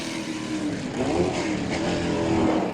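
A Cigaris and a Ford GT40 race car pass on a track-day circuit, a loud continuous engine roar with a gentle pitch sweep as they go by, no voices.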